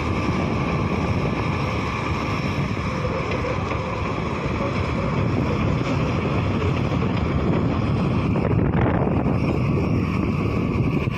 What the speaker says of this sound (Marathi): हवा पण खूप आहे, मस्त वाटतं,